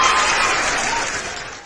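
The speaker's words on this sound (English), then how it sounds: "Give a round of applause for Katie." Brief burst of dense applause, loud and close at first and gradually fading over a second and a half.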